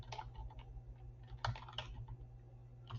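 Search words typed on a computer keyboard come through as quiet, close keystrokes in an irregular run with a few clustered taps, over a low steady hum.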